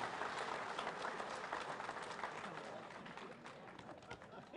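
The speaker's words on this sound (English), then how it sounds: "Give him another round of applause" Crowd at a union rally for a senator gives a round of applause, sustained clapping and some cheering heard faintly from a distance, steady and then easing slightly toward the end.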